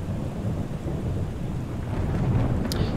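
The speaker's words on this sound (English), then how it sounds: "Here's Hamburg in the rain" Steady rain with rolling thunder at Hamburg airport in Microsoft Flight Simulator, a loud continuous wash of rainfall and low rumble, with no voices.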